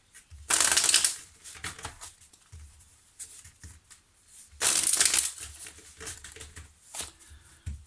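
An oracle card deck is shuffled by hand in two loud, crisp bursts of riffling, with softer card handling and tapping between them, close to the mic and without talk.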